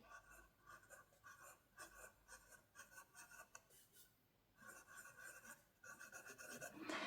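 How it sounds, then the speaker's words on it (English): A Montegrappa Venetia fountain pen nib writing across paper, giving faint close scratchy strokes in short irregular bursts with brief pauses between words, very quiet and without speech. "So it's not scratchy, just basic nib feedback."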